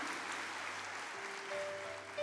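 Catholic church congregation applauding at a healing and deliverance Mass, a faint, steady patter of clapping heard from a distance with a soft sustained tone beneath.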